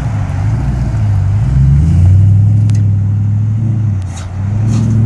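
A V8-swapped Jeep engine idles steadily while warming up, a loud, continuous low rumble with slight rises in pitch and a faint whirring overtone, no voices.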